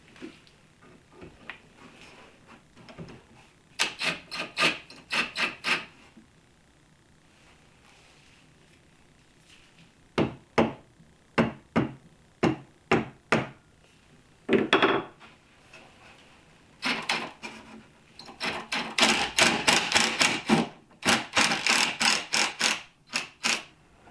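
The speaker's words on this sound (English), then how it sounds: "just going to level them off and drive some screws in." A screw gun drives screws into wood while building a bench seat, in short, loud, close bursts of whirring spaced by pauses, with a denser cluster of quick runs toward the end.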